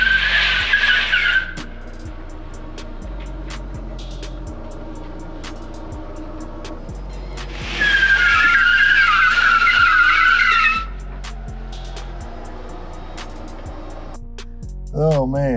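A Rivian electric truck spins in place in a tank turn, its tires scrubbing and squealing in two loud sustained bursts, one at the start and one longer in the middle, over a low steady hum.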